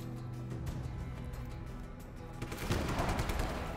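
Gunfire in Just Cause 3 from a sniper rifle, with quick repeated shots over steady background game noise, swelling louder and denser toward the end.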